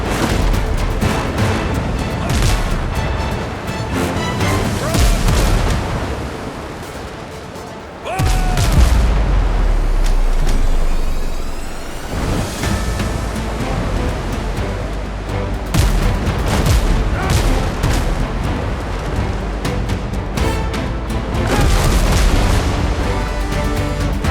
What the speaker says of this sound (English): Let me use the shot cannons.